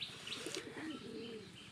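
Pigeons gathering to feed coo in low, murmuring phrases mixed with brief chirps and a flutter of wings, faint and close together with no talk.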